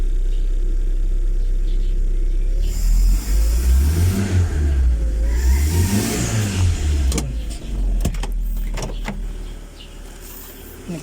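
A Mitsubishi Lancer with a 4G13/4G15 engine cranks, catches and settles into a steady low idle, a rising and falling rumble close by, with a few sharp clicks near the end.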